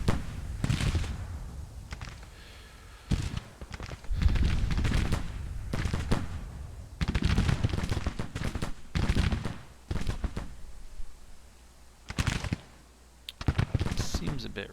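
Musket volleys fired at will in a Civil War strategy game, with repeated bursts of crackling gunfire coming in waves with short pauses, mixed with faint clicks.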